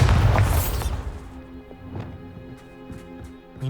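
The Bombarda blasting spell in Hogwarts Legacy erupts as a loud booming explosion at the start, then decays into scattered faint clatter and debris.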